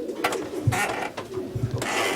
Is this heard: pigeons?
yes